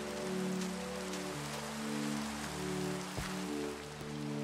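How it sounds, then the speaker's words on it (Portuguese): Rain falling in a video game, a steady close hiss of drops over a low sustained music drone, with no voices present. "Tá escurecendo de novo e a chuva não para, velho."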